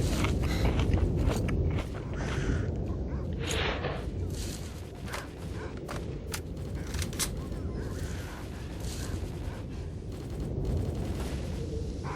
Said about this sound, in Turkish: Yine etraftan çatışma sesleri eksik olmuyor.